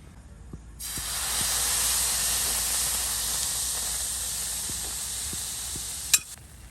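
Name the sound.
tomato dosa batter sizzling on a hot griddle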